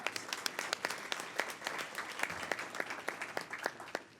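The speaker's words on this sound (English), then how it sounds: "Let's thank all of today's sponsors with a round of applause." A seated audience at a panel event applauds the sponsors, with faint, somewhat sparse, distant clapping whose individual claps stand out throughout.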